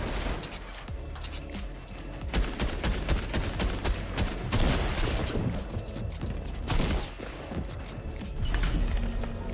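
Sustained LMG gunfire in the video game Fortnite, dense continuous bursts of shots with explosive booms mixed in, loud and steady throughout with no talking.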